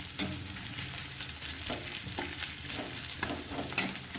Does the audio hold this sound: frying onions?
yes